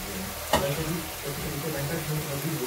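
Masala sizzling in oil in a pan for mushroom masala, a soft steady frying hiss with a brief sharp clink early on.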